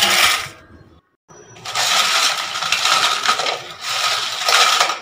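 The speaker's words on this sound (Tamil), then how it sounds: "நல்லா காஞ்சு இந்த மாதிரி சத்தம் வந்ததுக்கப்புறமா பொறிச்சா தான் நல்லா பொரியும்" Sun-dried rice papad (vadam) rattled and shuffled by hand, making crisp, dry rustling and clattering bursts with one brief pause, loud and close.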